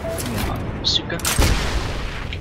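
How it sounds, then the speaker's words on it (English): M1A1 bazooka fired in the game Heroes and Generals, a single sharp blast with a booming tail amid scattered distant gunfire and battlefield noise. "Bazooka."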